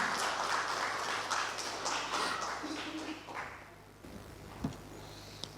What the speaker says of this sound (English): Can I have a huge round of applause in welcoming him?